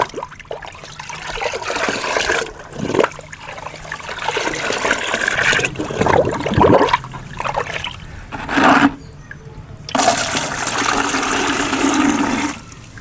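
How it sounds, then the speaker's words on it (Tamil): Fermented peanut oilcake water is poured into a container for plant fertilizer, a continuous splashing liquid stream with a few brief pauses and shifts in flow, close and fairly loud. "இப்போ இதில் 1 லிட்ரு புண்ணாக்கு தண்ணி ஊற்றிட்டேன்"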